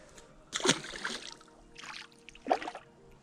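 A small bass slipped back into the water from a riverbank at sunset, giving a couple of brief close splashes and sloshes spaced apart, with a quiet outdoor background.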